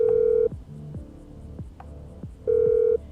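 In GTA 5, a mobile phone call is placed: a long steady tone, a run of short dial blips, then another long tone, loud and close with no talking.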